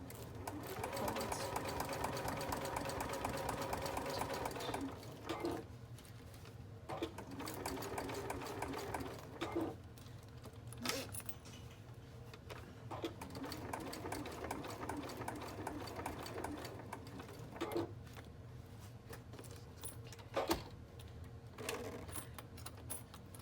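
A sewing machine top-stitching a fabric binder pouch runs in long, steady whirring bursts, broken by brief pauses and quick back-stitches, close and fairly quiet.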